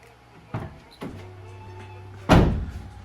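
Two light knocks, then a firm Subaru WRX door slam close by, followed by a brief ringing decay; quiet background otherwise.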